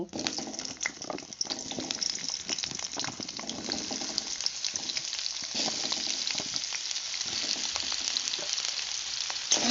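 Cut potatoes fry and crackle in hot mustard oil with dried red chillies, a steady close sizzle broken by scraping stir strokes throughout.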